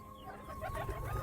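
Pigeons murmur and coo softly inside a loft, faint and close, without any talk.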